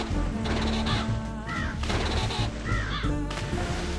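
Harsh, raspy squawks of penguins in the video game Tasty Blue, several loud cawing calls repeating over a dense, busy game soundtrack.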